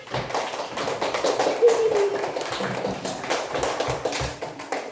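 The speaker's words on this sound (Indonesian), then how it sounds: "Tepuk tangan." Audience applause at the close of a classroom presentation session, a steady crowd of hands clapping for about five seconds with a faint voice briefly underneath.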